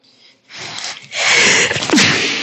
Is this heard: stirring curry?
no